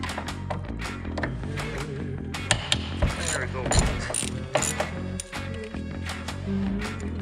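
Ratchet socket wrench loosening bolts on the EGR valve of a Smart Car, rapid close clicking ratchet bursts with metallic knocks and clinks, repeated several times, fairly loud with no talk.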